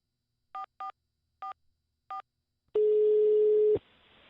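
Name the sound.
phone number being dialed, keypad tones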